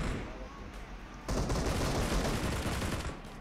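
Dense automatic gunfire in BGMI, a continuous loud rattle of shots that jumps sharply in intensity partway through and keeps going steadily.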